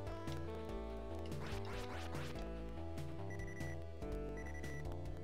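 Electronic beeping from the Mega Drive game Dick Tracy, a repeated high tone, likely a running-out-of-time warning, sounding over busy game music and sound effects.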